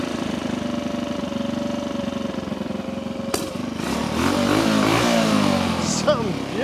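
A 1964 Honda C200 vintage motorcycle engine runs at idle, a steady low drone that is then blipped and brought down, turning busier and rougher partway through, with a person talking alongside.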